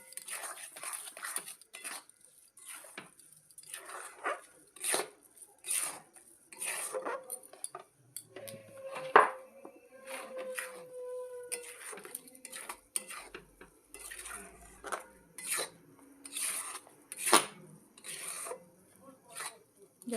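A spoon scrapes and clatters in a pan of semolina and sugar, with repeated metallic stirring strokes in a steady, uneven rhythm, close and fairly soft, while a person talks quietly at times.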